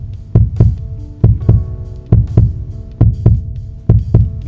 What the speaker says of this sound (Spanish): el latido crecía cada vez más fuerte